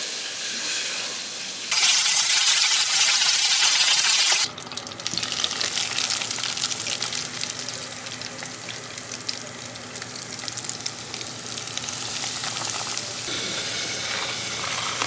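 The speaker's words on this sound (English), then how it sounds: "Now I make sure that grease is hot. So you hear that sizzle?" Chicken fries in hot grease with a loud, constant crackling sizzle that surges to a harsher roar for a few seconds before settling into a steady bubbling hiss, with no voices.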